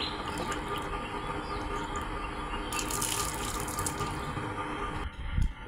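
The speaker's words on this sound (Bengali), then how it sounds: "এই যে ভুঁড়িতে এখন জল ঢালছে" Water is poured over a child's belly during a bath, a steady close splashing trickle with a brief louder splash and clatter near the end, no speech.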